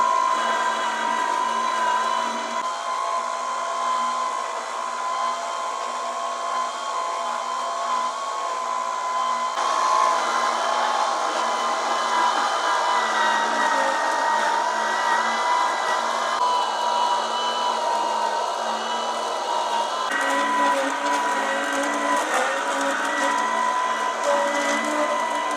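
A budget Amazon juicer's auger runs steadily, giving a constant motor hum with a grinding drone. It stays loud and close for the whole stretch, its tone shifting slightly in places, with no voices.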